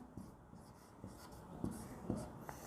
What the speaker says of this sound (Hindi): अब हम एक सेंटेंस लिखते हैं क्या?